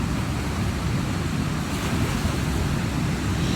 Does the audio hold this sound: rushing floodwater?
yes